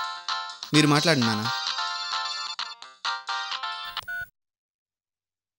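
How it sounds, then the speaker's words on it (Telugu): A phone ringtone plays a bright repeating electronic melody, loud and close, with a brief spoken line near the start before it cuts off. "ఇదిగో మళ్ళీ ఫోన్ చేస్తుంది."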